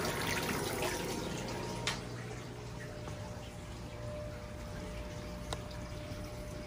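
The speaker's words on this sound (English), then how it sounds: "Now both tanks are siphoning and draining." Water steadily siphons and drains from two large fish tanks, a soft continuous trickling and gurgling with an occasional faint clink.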